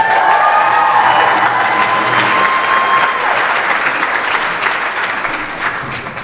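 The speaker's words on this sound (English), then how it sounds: "Another round of applause for Renegade Acapella." Dense applause from a large crowd, loud at first and slowly tapering off, with a faint whistle-like tone rising above the clapping early on.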